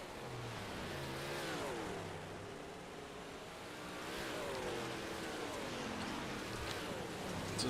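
Roaring engines of 358 modified dirt race cars at Weedsport Speedway in the iRacing sim, a continuous loud drone with engine notes rising and falling as cars accelerate around the track.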